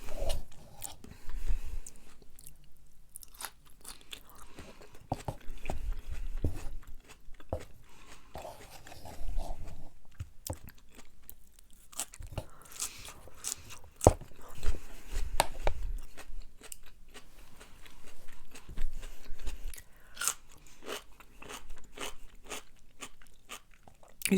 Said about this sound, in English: These pickles are really good.